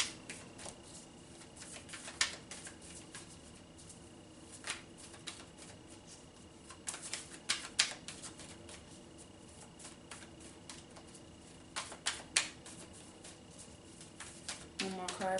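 Tarot cards being shuffled and drawn, with soft riffling and sharp snapping flicks spaced irregularly, clustered near the middle and end, close and fairly quiet.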